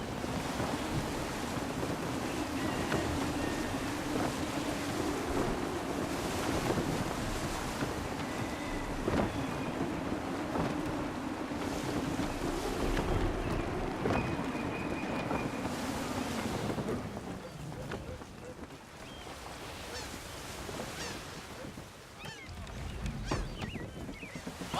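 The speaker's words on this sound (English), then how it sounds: "Wind looks to be shifting. Stay alert, Connor. Gusty winds can be difficult to manage." Gusty wind and rolling ocean waves surround a sailing ship at sea in Assassin's Creed III, a steady broadband rush with wind buffeting the microphone that eases slightly near the end, with no voices.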